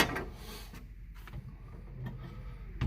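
Cover panel sliding onto an AU640 analyzer, a few quiet scrapes and light clunks of the panel being fitted, ending in a sharper knock.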